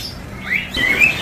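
At a bird market, a pair of conure parrots gives a few short, rising chirps close by over a low background hum, the calls brief and separated by a moment.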